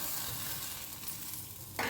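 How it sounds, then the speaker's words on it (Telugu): Grated coconut frying in a pan, a steady close sizzle with soft stirring scrapes running continuously, ending in a brief louder scrape. "సో ఇప్పుడు కొబ్బరి తురుము వేయించుకుందామండి."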